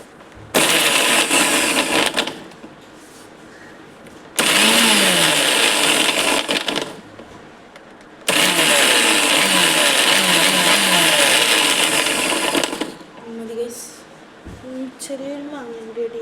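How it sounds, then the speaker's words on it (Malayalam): An electric mixer grinder blends mango juice in three loud, steady whirring bursts separated by short pauses. Between runs a quieter voice speaks, and talking continues after the final burst. "നമ്മൾ മിക്സി ഓണാക്കാൻ മറന്നുപോയി"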